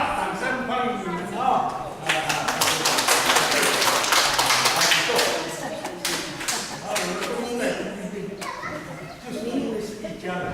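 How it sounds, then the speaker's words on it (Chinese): Church congregation at a Sunday service of an Amis Presbyterian church in Taiwan breaks into a burst of clapping that swells for a few seconds and then thins out, with children's voices and chatter mixed in. "掌声欢迎你们"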